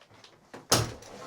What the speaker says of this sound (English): Oh yeah, it's a sticky door